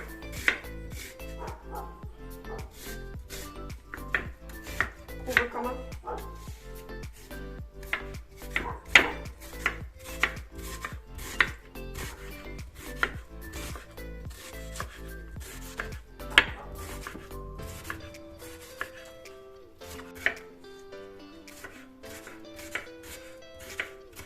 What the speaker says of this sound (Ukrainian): Нарізаємо цибулю рівненько.